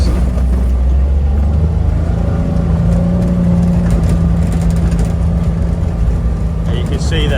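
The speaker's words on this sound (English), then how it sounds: "Crash through the ice." A Valtra tractor drives down a farm track and crashes through iced-over puddles, its engine a steady, loud mid-pitched drone throughout with rumbling wheel noise.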